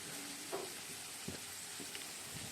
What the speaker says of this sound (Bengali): পেঁয়াজটা মোটামুটি ভাজা হয়ে এসছে, আর একটু ভাজবো।